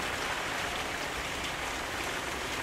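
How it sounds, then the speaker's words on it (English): Rain falls steadily outside on a boat under a tent cover, a dense even patter and hiss, close and continuous with no talk. "it's raining pretty good out here"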